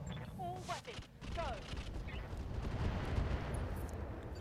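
Heavy mech weapons fire away at an enemy Wolverine mech in the video game RogueTech, a few booming blasts and a rolling broadband roar mixed with game sounds, while a voice talks early on.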